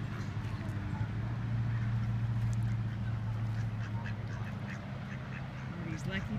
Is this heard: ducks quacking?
yes